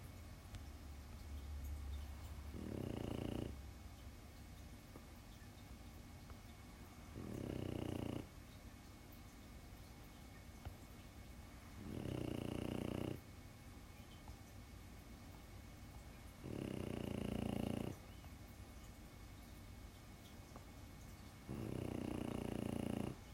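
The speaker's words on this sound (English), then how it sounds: "Would you stop snoring?" Snoring from a sleeper nearby in a comic artist's workspace, five long rumbling breaths repeating every four to five seconds, each loud against a quiet room hum.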